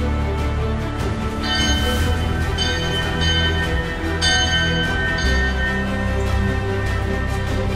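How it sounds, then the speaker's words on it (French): A large bell rings inside Fort du Taureau, a sea castle, its repeated strokes layering into a sustained, resonant metallic hum that fills the space without any talking. "c'est pas le père Fouras qui sonne la cloche pour la fin de la première partie du jeu"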